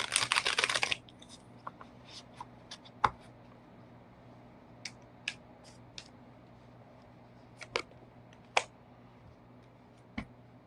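Oracle cards, including a Midnight Oracle deck, riffled in a dense burst of crisp flutter at the start, followed by scattered soft clicks and taps as the cards settle, close and fairly quiet with no talking.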